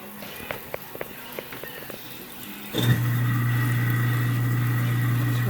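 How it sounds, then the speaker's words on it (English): An InSinkErator Badger 1 garbage disposal switches on under a kitchen sink with water running. A few light clicks and taps come first, then the motor starts with a sudden thump and settles into a loud, steady hum with a whirring drone. "See if our disposal works."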